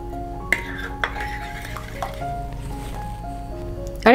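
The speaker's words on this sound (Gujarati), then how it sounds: "બધું આપણે દહીંમાં સરસ રીતે મિક્સ કરી દેશું" Spices, roasted cumin powder and powdered sugar being stirred into yogurt, with a few light spoon-against-bowl taps and soft wet squishing, close and quiet, ending on a brief louder clatter.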